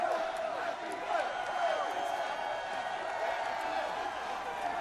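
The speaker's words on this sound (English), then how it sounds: "Even got all the fans cheering," Visiting St. Louis Cardinals fans cheer in the Milwaukee ballpark after a win in NLCS Game 6, a broad, sustained crowd roar with scattered whoops, heard from a distance at a steady level.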